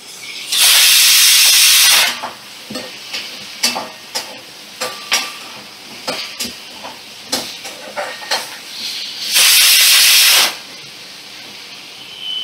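Chopped tomato dropped into a hot pan of sautéing vegetables for an eggplant papad dalna, loud bursts of sizzling hiss at the start and near the end with scraping stirs and clinks between.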